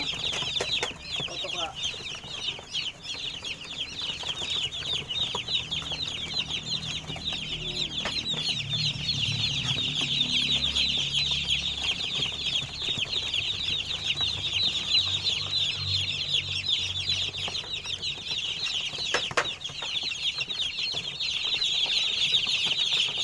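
A dense crowd of newly arrived chicks peeps continuously, high shrill chirps overlapping without pause at close range, with occasional soft rustling and faint low murmurs of a person underneath.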